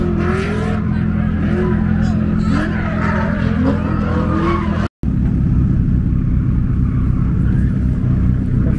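A car drifts around a racetrack during a track day, its loud, steady engine drone and harmonic roar filling the scene with tire noise mixed in, while people talk over it; a brief dropout cuts the sound midway.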